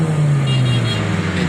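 Cars driving along busy streets in Islamabad, a loud, close, steady engine drone and road rumble with the pitch shifting slightly as a vehicle moves.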